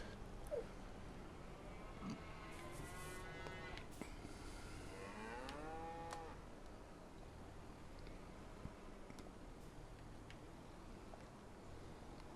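Cattle in a farming video game moo in a few long, drawn-out calls against a steady soft background hiss, fairly quiet with no talking.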